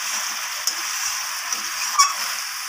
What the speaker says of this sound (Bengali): আবারও মাংসটাকে আমি ভালোভাবে কষিয়ে নেব